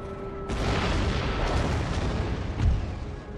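Mortar and artillery fire on a battlefield in Empire: Total War: a heavy, loud boom erupts and rumbles on, followed by a second deep blast a couple of seconds later, with no talking.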